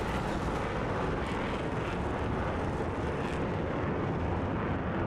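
Several aircraft taking off together in formation at an air show, a steady loud broadband engine roar that fills the whole stretch without letup, close and continuous.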